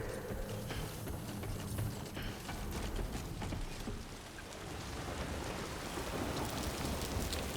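Steady rain in the video game Death Stranding 2, a dense continuous hiss of falling water and droplets pattering on surfaces, fairly loud and even throughout with no talking.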